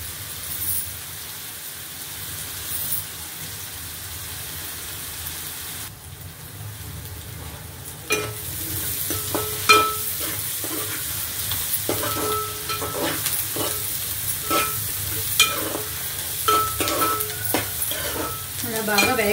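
Onions frying in a pan for egg curry: a steady oil sizzle runs throughout, joined partway by repeated scraping stirs and sharp spatula knocks against the pan, close and moderately loud, with no talking.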